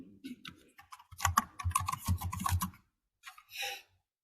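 Fast bursts of clicky keystrokes tap on a computer keyboard close by, quick runs of keys with short pauses in between and a final brief flurry, with no talk over them.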